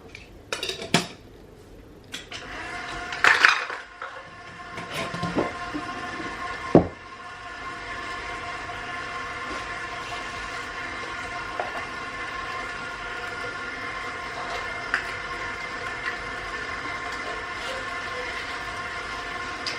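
A stand mixer churns chocolate chip cookie dough in a steady whirring drone, with a few clinks and knocks of the bowl near the start before the motor settles into a continuous hum.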